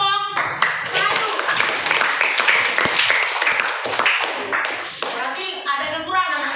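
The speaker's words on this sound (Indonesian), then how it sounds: "tepuk tangan kepada kelompok 1" Classroom of students applauding a presenting group, dense overlapping hand claps filling the room with scattered children's voices and shuffling mixed in, steady and fairly loud throughout.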